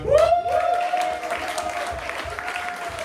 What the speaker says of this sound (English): Let's do a quick example of what uproarious applause sounds like.